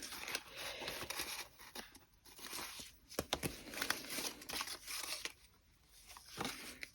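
Craft material being trimmed for festive snippet rolls: close, quiet crinkling and snipping with small papery rustles and a few sharp cuts, continuing unevenly throughout.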